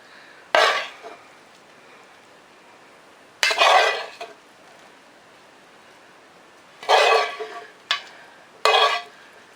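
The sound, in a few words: spooning vegetable mix into a dish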